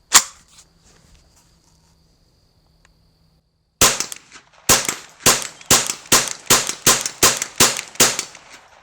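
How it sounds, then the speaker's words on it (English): A Mossberg 702 Plinkster rifle fires federal bulk ammo close by: one sharp crack, a few seconds of quiet, then a rapid, evenly spaced string of about ten loud shots. "we'll go ahead and load up the 10 round mag to verify that it actually shoots"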